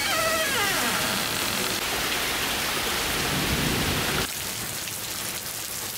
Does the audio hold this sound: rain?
yes